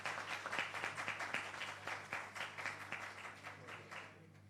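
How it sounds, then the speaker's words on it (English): An audience claps at a records-month launch and off-boarding ceremony in Jamaica, a moderate round of applause with dense overlapping claps that builds, holds steady, then tapers off near the end. "So give them another round of applause"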